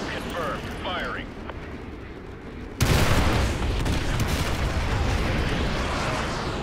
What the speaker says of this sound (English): Use your laser designated and call an artillery on those vehicles. Fire mission received. Artillery inbound.